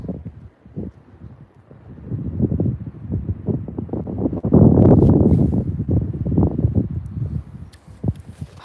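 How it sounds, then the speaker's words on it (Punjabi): Gusts of wind buffet the microphone in uneven bursts, swelling loudest midway, with no voices heard, outdoors in a Canadian winter. "ਹਵਾ ਚੱਲ ਪਈ ਹੁਣ ਤਾਂ ਵੇਖੋ ਹਵਾ ਕਿਵੇਂ ਆਉਂਦੀ ਹੈ"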